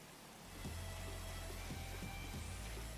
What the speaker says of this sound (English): You're gonna just listen to the sound of the rain.